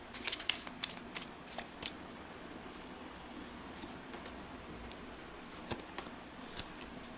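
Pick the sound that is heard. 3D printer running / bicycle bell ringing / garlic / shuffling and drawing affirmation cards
shuffling and drawing affirmation cards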